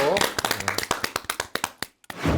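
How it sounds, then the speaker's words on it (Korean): Studio audience at a lecture on marriage and family conflict clapping briefly; a run of sharp, distinct claps at a quick rhythm, close and loud, ending just before speech resumes. "박수."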